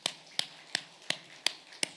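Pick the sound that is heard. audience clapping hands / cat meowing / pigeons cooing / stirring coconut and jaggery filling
audience clapping hands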